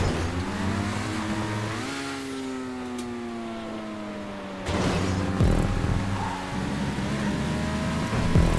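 A race car engine in the game GTA 5 Online revs loudly and steadily, its pitch climbing and falling through gear changes, with a brief burst of added engine noise midway.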